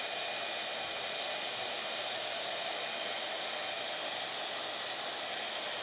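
Electric heat tool blowing steadily while melting embossing powder on a handmade card, a constant close hissing, whooshing air noise with no talk.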